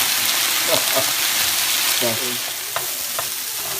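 Steady, loud sizzle of frozen okra frying in hot oil, with a few clinks and scrapes of a spoon stirring the pan.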